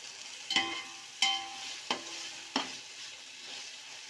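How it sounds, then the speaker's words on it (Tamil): Tomato, ginger and garlic sauté gently for chicken biryani, a soft, quiet sizzle broken by four evenly spaced scrapes of a stirring spoon against the pan. "இப்போ தக்காளி பழம் சேர்த்துக்கலாம் தக்காளி பழம் கொஞ்சம் நல்லா வதங்கட்டும்"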